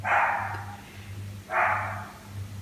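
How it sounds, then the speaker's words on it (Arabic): A dog gives two loud, close barks about 1.5 seconds apart over a steady low hum, with no talking. "لا ما هو كلب فعلا"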